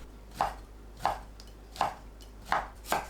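A knife slicing fish cake into thin strips on a cutting board: five crisp, evenly spaced chops in a steady rhythm, close and fairly quiet, with no talking.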